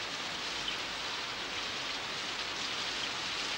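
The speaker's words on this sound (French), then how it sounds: "Mais il pleut des cordes." Heavy rain pours down in a dense, continuous hiss, steady and loud from start to finish, with no talking, in the animated series The Moomins.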